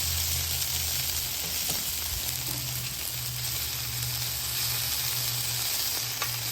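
Fully cooked potatoes frying in a shallow layer on a griddle, a bright continuous sizzle with a low hum beneath, close and steady for the whole stretch.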